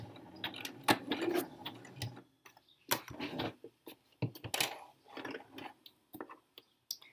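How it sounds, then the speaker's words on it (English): A sewing machine does a back stitch to finish a seam on a boxy tee, heard as short uneven mechanical bursts with pauses, close and fairly quiet with no talking. "And then a back stitch to finish."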